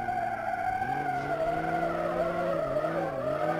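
A school bus drifting in BeamNG.drive, its tires squealing in a long wavering skid that rises and falls in pitch, loud and continuous, with no talking.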